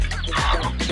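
Darag native chickens on a farm, a brief burst of close clucking lasting under a second.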